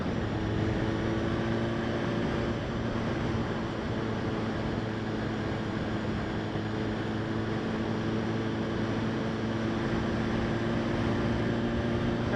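A 2016 BMW S1000RR motorcycle rides along a street at cruising speed, its engine a steady, continuous drone mixed with rushing wind noise, constant and loud from start to finish.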